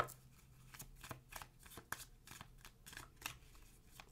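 A tarot card deck being shuffled up close, a steady run of quick papery riffles and flicks repeating for several seconds with no talking.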